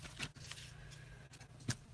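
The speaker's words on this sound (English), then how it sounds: "I'm going to combine these and shuffle them up" Playing cards are shuffled up close while preparing a tabletop golf game: soft, quiet riffling and a couple of sharp snaps of card edges, faint and brief with no talk over it.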